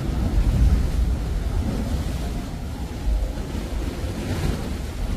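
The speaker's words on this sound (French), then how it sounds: "écouter les vagues s'écraser contre le rebord" Steady roar of surf and wind on Portugal's Algarve coast, waves crashing against rocks with a low rumbling wash and gusty noise, no voices.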